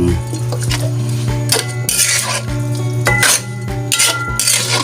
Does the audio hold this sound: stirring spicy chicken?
yes